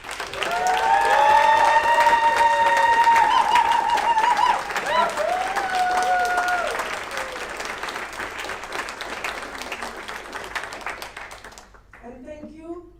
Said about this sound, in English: great round of applause for NB, especially for Kuba